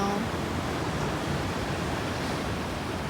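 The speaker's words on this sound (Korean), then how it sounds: "완전 가까이서 이런 파도를 볼 수 있을 뿐더러 맞을 수 있어요" Ocean waves breaking along the Jeju coastline, a steady broadband wash of surf heard close and loud throughout, with no talk over it.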